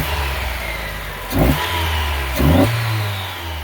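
Car engine fitted with a Walker muffler and stock exhaust manifold idles with a low steady rumble, then revs twice in short bursts, each blip swelling and falling back to idle.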